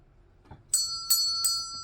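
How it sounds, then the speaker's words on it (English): Three bright notification bell chimes ring out one after another, each a clear sustained tone struck in a steady rhythm, loud and close over a quiet background with no talking. "ring the notification bell for all notifications."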